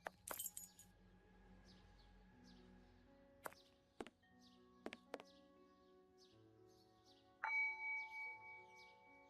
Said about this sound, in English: I'm going to ring the doorbell